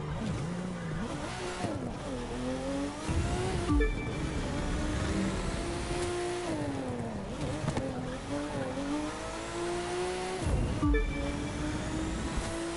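A race car in The Crew 2 laps a track, its engine note rising and falling through gear changes, with tires squealing and skidding through the corners, steady and fairly close.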